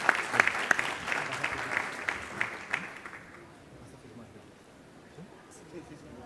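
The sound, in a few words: audience applause for book presenters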